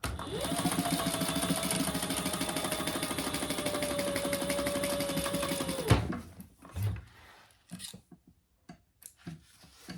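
A sewing machine stitches rows through waterproof canvas for a crossbody bag, a steady fast mechanical whir for about six seconds at close range, then stops, leaving scattered handling clicks and thumps.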